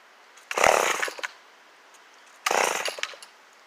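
Two separate pull-cord yanks on a Homelite XL12 chainsaw, each a short rasping burst of cranking a couple of seconds apart, close by, and the engine never catches.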